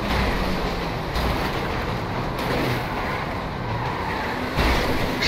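A train rolls along steadily in GTA Online, a loud continuous rumble with rail clatter and no voices over it.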